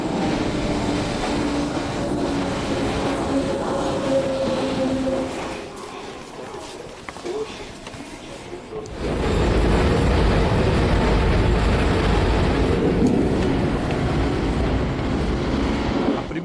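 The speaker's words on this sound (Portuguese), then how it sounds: "Vou dar uma volta agora pelo metrô de Ekaterimburgo" A Yekaterinburg metro train on the city's single line runs with a steady rumble and rolling noise, dips into a quieter stretch partway through, then swells back to a loud, sustained roar.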